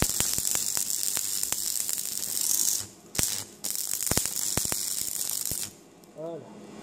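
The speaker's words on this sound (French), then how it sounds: "je vous conseille de faire des petits points de soudure comme ça" Arc welder laying small tack welds on metal for a large wheeled lamp, with a harsh continuous crackling sizzle broken by short pauses and sharp ticks, someone speaking briefly near the end.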